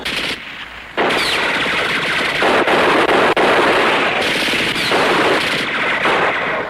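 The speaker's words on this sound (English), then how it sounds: "They're pinned down onto the bridge with a machine gun." Sustained machine gun fire from a TV war drama battle scene at a bridge, loud and continuous, with rapid bursts and brief pauses around the first second and midway, dense gunfire textures throughout.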